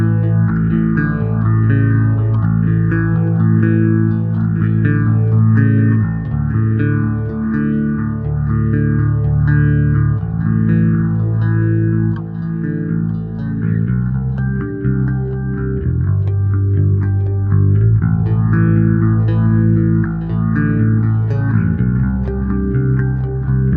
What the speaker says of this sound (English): And this other patch, delay, reverb, and a little bit of phaser.